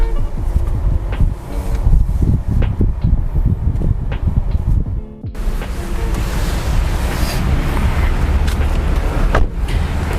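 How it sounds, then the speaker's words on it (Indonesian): Interior road noise from a Nissan Kicks e-Power electric-drive car on the move, a steady low rumble and tire hiss with brief dips and no talking. "rasanya menggunakan mobil Nissan Kicks e-Power"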